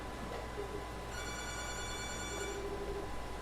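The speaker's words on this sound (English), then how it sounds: "why is this phone ringing?" A telephone rings with a steady electronic trill, moderately loud, lasting a couple of seconds against a constant background hum.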